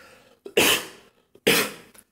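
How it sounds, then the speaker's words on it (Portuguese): Two harsh, close coughs from someone with a cold, each with a short intake of breath before it, with a pause between them and no speech. "Só perdão a tosse, porque hoje eu tô com tosse."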